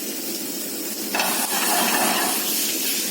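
Butter hitting a hot pan of potatoes, onions and bacon for pomme lyonnaise, a steady close sizzle and hiss that swells louder partway through.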